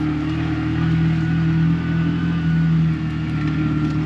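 A two-wheel-drive vehicle's engine drones loud and steady in first gear on a sandy desert road in Argentina, a close, continuous hum that eases slightly near the end, with no talking.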